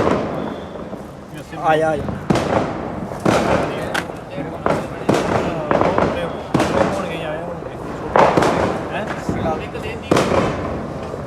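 Firecrackers bursting in sharp, repeated cracks and pops at a Diwali market stall, loud and close, with voices chatting over the explosions throughout.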